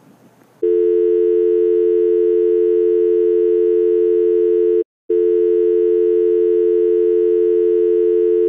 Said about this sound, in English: We're sorry, the number you have dialed is not in service at this time.